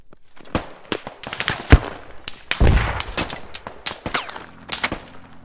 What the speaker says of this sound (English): Shots coming in, 100.